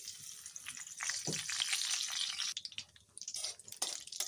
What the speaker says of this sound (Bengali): একই তেলে আমি জিরা তেজপাতা শুকনো লঙ্কা ফোড়নে দিয়ে দিলাম